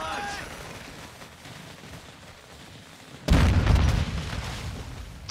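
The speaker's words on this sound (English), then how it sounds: "Throwing grenade charge!" A grenade charge bursts in a video game, a sudden heavy boom that cuts in after a quiet stretch of faint background and rumbles on with a lingering roar for about a second.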